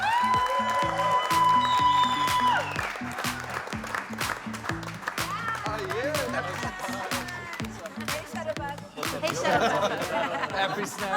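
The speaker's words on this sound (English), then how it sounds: "So let's give them a big round of applause, welcoming Nomvelo, Lasizwe, and Jonathan." An audience applauds to welcome the top three contestants of a photography competition, with steady clapping and chatter, a tone and music-like rhythmic pulses underneath, and voices talking over it.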